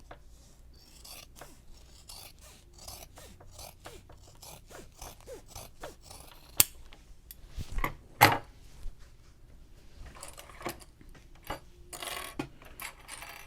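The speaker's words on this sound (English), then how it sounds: "now I'm going to trim this seam." Fabric scissors snip repeatedly along a seam of a messenger bag, a long run of quick, close metallic cuts with brief pauses and a few louder clacks, no talking.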